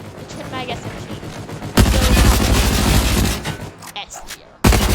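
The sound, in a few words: Twin Mag SMG gunfire in a video game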